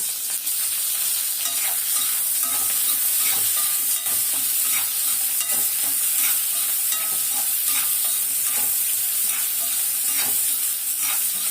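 Two large onions sautéing in a pan for pirandai chutney give off a steady, close sizzle broken by repeated scraping stirs, with no voices.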